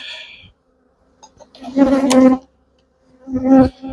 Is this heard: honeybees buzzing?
yes